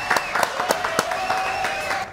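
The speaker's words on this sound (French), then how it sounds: "applaudissements pour les amoureux du monde entier qui nous regardent" A studio audience applauds during a French television show on Valentine's Day: a short burst of brisk, dense clapping, close and fairly loud, with a voice speaking over it.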